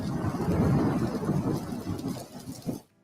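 Rain and thunder sound effect: a deep rolling thunder rumble over steady rainfall, loud at first and gradually easing before cutting off abruptly at the end, no voices.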